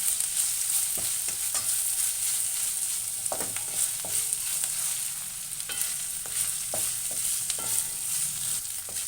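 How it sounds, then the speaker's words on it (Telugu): Ginger garlic paste frying in a pan for a mushroom and meal maker curry, a continuous close sizzle broken by several sharp spoon stirring clicks and scrapes, with no voices. "ఒక చెంచా అల్లం వెల్లుల్లి వాసన పోయే వరకు కూడా మనం వేయించుకోవాలి"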